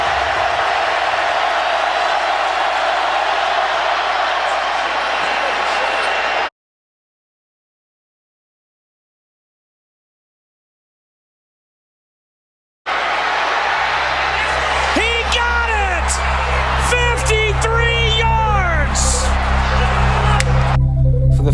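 Big stadium crowd at Sanford Stadium in Athens roars steadily as Georgia Tech attempts a 53-yard field goal against Georgia; the dense roar cuts out abruptly for several seconds, then returns with whistles and swelling cheers.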